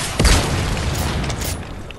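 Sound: RPG rocket explosion in the video game Fortnite

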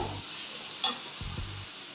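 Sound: stirring and frying onion and tomato for pav bhaji

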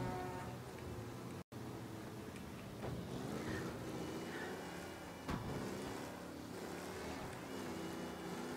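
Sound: overheating car engine in Mafia video game

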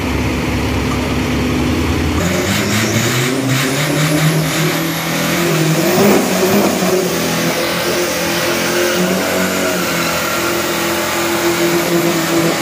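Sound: Isuzu 1.9 turbo pickup truck engine revving

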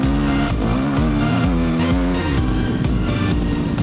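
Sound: enduro motorcycle taking a corner hard

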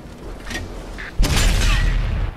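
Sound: M103 tank cannon shot in World of Tanks video game

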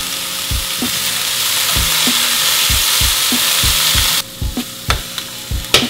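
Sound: zucchini and cilantro frying in a pan

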